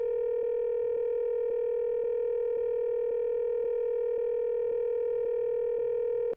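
Steady electronic calling tone from a mysterious device in the video game Danganronpa 2 Goodbye Despair, a continuous hum pulsing with evenly spaced ticks, unanswered and constant until it cuts off abruptly.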